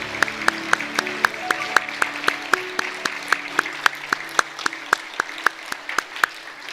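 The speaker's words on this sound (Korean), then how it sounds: "우리 박수로 축하하겠습니다." Church congregation applauding graduates, rhythmic unison clapping of many hands, sharp regular beats at a moderate distance, with faint music-like tones underneath and no talk.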